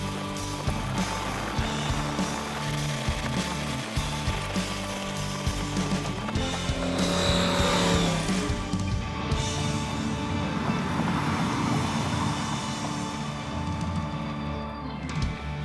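An LS-swapped 1974 Chevrolet El Camino pulls along in third gear in cold weather, a dense, steady engine and road roar that swells slightly in the middle and carries on without a break.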